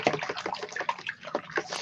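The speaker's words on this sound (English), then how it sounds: "stir it up to get a bunch of bubbles" Soapy water being stirred in a small container to raise bubbles, a quick run of light splashy sloshing and bubbly swirls, close and alone with no voices.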